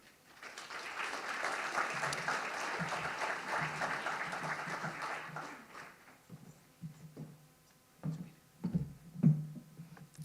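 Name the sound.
audience applause welcoming a speaker to the stage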